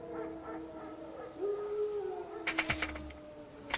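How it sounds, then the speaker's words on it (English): Wild dogs howl in The Witcher 3: Wild Hunt, a single rising, sustained howl over a quiet ambient game backdrop, followed by a brief burst of rustling noise. "No. Wild dogs."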